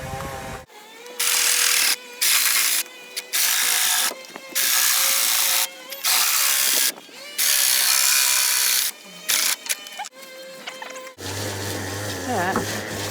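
A handheld power saw, either a Sawzall reciprocating saw or a jigsaw, cuts in repeated loud bursts of about a second each, separated by short pauses, with a different mechanical whir at the end.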